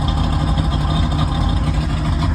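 A 1988 Blackmax 200 outboard engine runs close by with a loud, steady, unbroken drone. No one talks over it.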